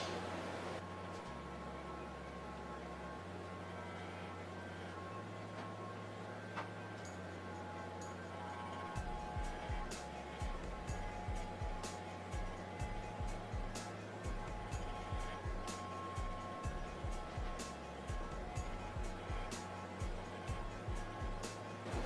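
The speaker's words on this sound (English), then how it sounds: "I'm going to be using my Wahl Balding Clippers" Wahl Balding Clippers hum steadily at close range during a bald fade haircut, with a continuous motor drone and repeated light clicks and buzz fluctuations as the blades pass through the hair.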